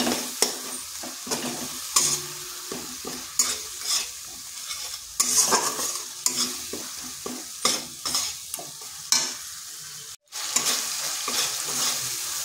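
Ground cumin and a little chili powder stir-fried in a pan for a vegetarian papaya dish, with steady sizzling and repeated scraping strokes of a spoon across the pan in a regular rhythm, close and alone.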